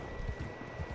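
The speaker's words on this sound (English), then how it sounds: "Finally, you can get your horse so you can stop bitching." Horse hooves clip-clop at a walking pace in a video game, several evenly spaced soft thuds close by with no speech over them.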